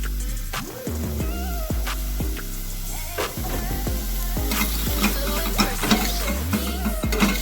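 Spices hitting a hot pan sizzle and crackle steadily, with bright hissing, occasional scraping stir sounds and clatter throughout, close and fairly loud with no talking.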